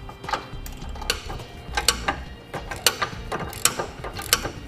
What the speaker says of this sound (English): we'll take our 3/4 inch socket. We'll go ahead and tighten down the T-bolt.